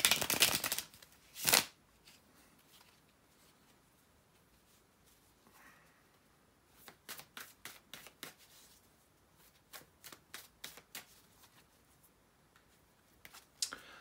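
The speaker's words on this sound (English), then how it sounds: "bear with me a couple of seconds, guys, to shuffle the tarot cards" Quiet riffling and flicking of cards, a few louder shuffles early on, then a run of rapid soft snaps with brief pauses.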